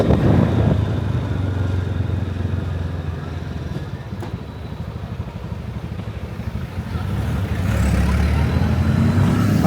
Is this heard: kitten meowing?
no